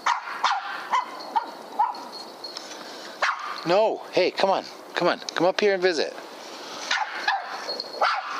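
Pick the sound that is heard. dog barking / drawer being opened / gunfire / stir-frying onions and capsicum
dog barking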